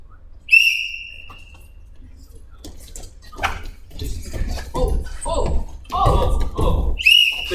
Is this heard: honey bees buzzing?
no